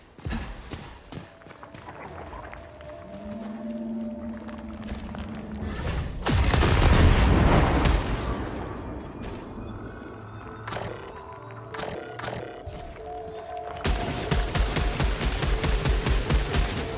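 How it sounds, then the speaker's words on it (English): Weapon fire in the PS5 game Returnal, triggered through an alternative firing mechanism: a loud burst of rapid, crackling shots erupts in the middle, then a sustained dense volley near the end, over humming sci-fi ambience. "Augments my weapon with an alternative firing mechanism."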